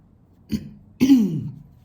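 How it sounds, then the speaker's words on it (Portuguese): Two quick throat clearings close by, a short rasp followed by a longer, rougher one, in an otherwise quiet room. "Um pigarro, né, gente?"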